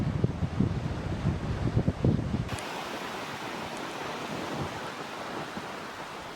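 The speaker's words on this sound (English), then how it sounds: "You're never far away from the Patagonia winds kicking up to say hello." Strong Patagonian wind gusting along a gravel road near El Chaltén, a loud, rough rush buffeting the microphone with low rumbling bursts in the first seconds, then settling into a steadier, hissing roar without talk.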